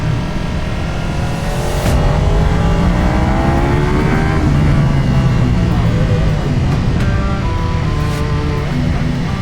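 A Ducati Panigale V4S motorcycle ridden on a race track, its engine roaring loudly and steadily as revs rise and fall through gear changes, close to the rider, with wind rush and a voice talking over it.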